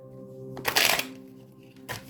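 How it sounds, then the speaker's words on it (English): Tarot cards being shuffled up close, a quick rustling riffle that swells to a loud burst, then eases off before a short final flutter. "Let me just shuffle these up real quick."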